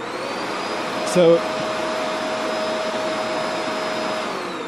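A Shark NV750W Powered Lift Away upright vacuum cleaner switched on, its steady motor whine running evenly and fairly loud for several seconds, with a brief spoken word near the start.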